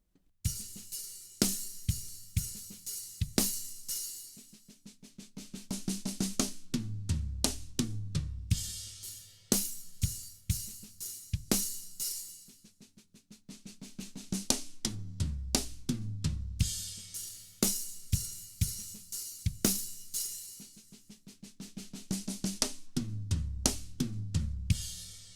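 Drum kit playing a repeating pattern with sharp cymbal hits and broad-triplet tom fills rolling down the kit, loud and rhythmic, no voices.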